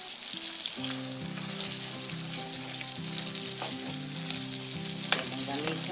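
Chopped tomato hits a hot pan with beans and longaniza sausage, giving a continuous, crackling sizzle with scattered pops and occasional stirring scrapes, close and steady with nobody talking.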